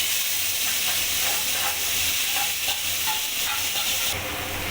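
Continuous hissing sizzle of a spice paste frying in hot oil, with faint stirring noises throughout.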